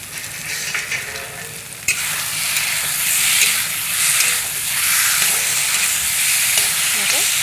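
Onion paste masala for fish curry sizzles and fries steadily in a wok as it is stirred, with a loud continuous crackle and hiss that gets stronger once liquid is added partway through. No one talks.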